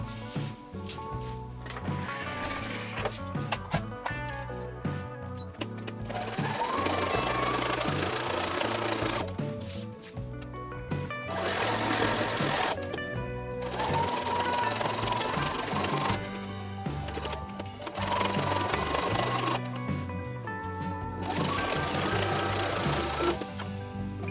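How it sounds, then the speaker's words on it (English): A sewing machine stitches a half-inch seam through fabric in several long, loud runs, its close motor whir and rapid needle rattle stopping and restarting between bursts. "Then one solid stitch, 1/2 inch all the way around."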